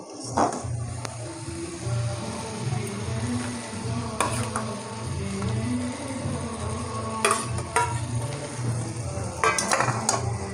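Mutton pieces with spices sizzle and get stirred in a hot pan, a steady fry with scraping clinks of a utensil against the metal and soft music-like tonal hum underneath.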